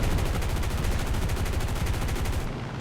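Rapid aircraft machine-gun fire from a P-47D-28 Thunderbolt in War Thunder, a loud, dense, unbroken burst of closely spaced shots that runs nearly the whole time before easing slightly at the end.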